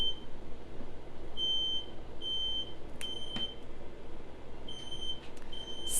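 Smoke alarm chirping in a home kitchen during cooking, a series of short, high, piercing beeps repeating in clusters over a faint steady room hiss, with no voices.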